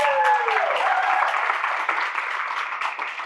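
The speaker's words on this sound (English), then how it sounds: "give them a huge round of applause" Audience applause for the men in a room at a speech event, a dense steady patter of clapping from a large crowd that thins slightly toward the end, with no talk over it.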